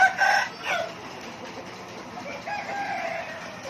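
Crowing of a Thai fighting rooster, a ng on 100 breeding cock, heard close and loud near the start, with a second shorter crow about midway through and farm background after.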